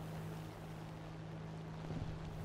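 A boat engine drones in the War Thunder video game, a faint continuous low hum under a windy wash with no breaks.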